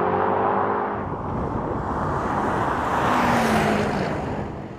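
A BMW M5 F90 and a Mercedes-Benz E63s AMG in a rolling drag race, their engines and tyres roaring loud and steady, swelling as they pass and fading at the end.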